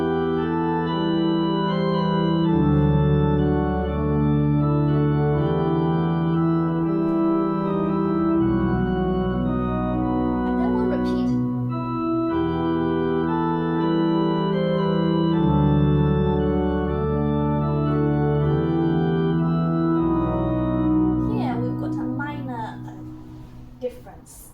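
Organ playing the first system of a simple Greensleeves arrangement with keyboard and pedals, sustained chords over deep pedal bass notes, steady and full, loud and close, with no talking over it.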